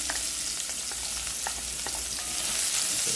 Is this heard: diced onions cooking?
yes